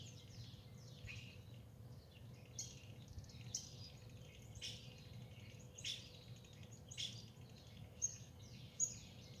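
Small birds chirp and tweet in an outdoor garden in short, bright bursts every second or so, fairly close and clear over a soft low ambient hum.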